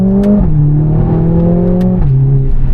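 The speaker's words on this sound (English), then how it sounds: "The engine revs so fast compared to that one, and it always feels so edgy to go." A Mercedes-AMG A45 S engine revs hard up close, a loud, rasping howl that rises in pitch, drops sharply at a shift, then climbs again and drops once more.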